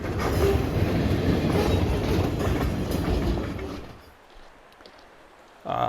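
A lumber-laden train rolls alongside a highway near Marinette, Wisconsin, a loud, steady rumble and clatter that fades out after about four seconds before another loud burst hits at the very end.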